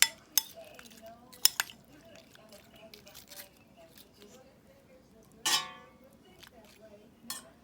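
Salad ingredients for a Christmas Eve ensalada de nochebuena being mixed in a bowl, with scattered utensil clinks and scrapes and a louder clatter near the end, fairly close and otherwise quiet.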